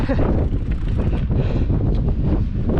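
Strong coastal wind at Widemouth Bay buffets the microphone outdoors in a continuous rumbling roar, with a voice faintly talking beneath it.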